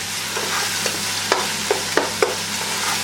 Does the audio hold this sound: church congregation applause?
no